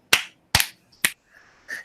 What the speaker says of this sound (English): can't snap with both hands, so I clap.